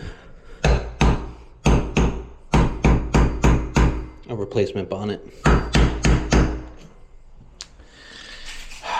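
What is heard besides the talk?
hammering on a shower valve part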